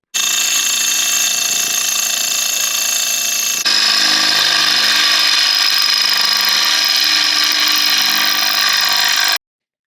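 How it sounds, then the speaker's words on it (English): Power drill boring through thick steel on a vehicle's rear tub, a steady, loud, high-pitched grinding whine that runs continuously for about nine seconds, shifting slightly in tone partway through, with no voices. "you'll be drilling through some pretty thick steel as well as the tub"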